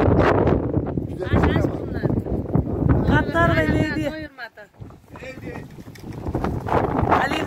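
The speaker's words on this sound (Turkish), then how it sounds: "çok rüzgar esiyor" Wind buffets and roars across the microphone, rumbling steadily as someone talks over it, easing briefly before gusting back.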